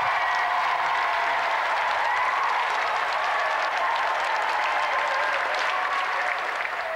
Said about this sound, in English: Another round of applause for our special guest, Johnny Herbert!